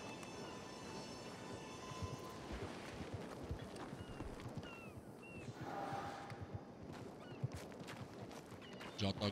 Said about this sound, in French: J'entends galoper depuis tout à l'heure.